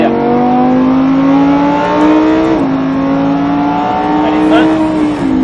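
A Lamborghini Huracan builds speed on the Mérignac track, its engine droning loud and close, with the pitch rising through the gears and a brief shift dip. Someone talks over the engine as the car accelerates.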